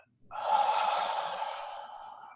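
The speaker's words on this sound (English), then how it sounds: "the simplest way of doing that is just take a nice deep breath" A single deep breath drawn in slowly for relaxation, a steady airy rush that rises quickly and holds for about two seconds before easing slightly, close and clear with no talking.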